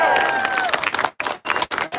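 A crowd clapping and cheering at a Second Amendment rally in Washington DC, a loud dense burst of applause with a few short gaps toward the end.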